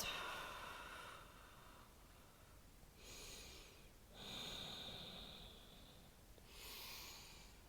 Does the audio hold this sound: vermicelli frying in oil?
no